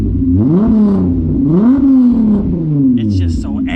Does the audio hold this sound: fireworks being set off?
no